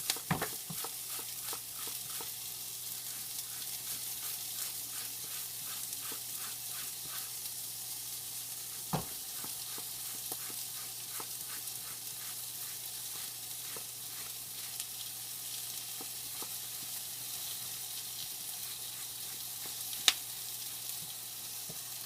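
Grated zucchini sizzling in a pan for an artichoke, jalapeno and portabella stir fry, a steady even crackling hiss throughout with frequent light stirring ticks and one sharper knock, no voices.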